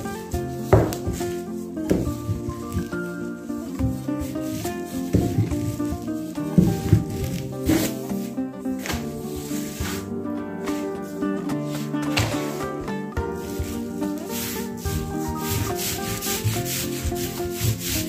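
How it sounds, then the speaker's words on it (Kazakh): Dough being rolled out thin with a rolling pin on a floured table: steady, rhythmic rubbing and scraping strokes up close, with soft knocks of wood repeating for a long stretch, and almost no voice. "Үстелімізге ұн сеуе отырып, қамырымызды жұқа етіп, жайып шығамыз."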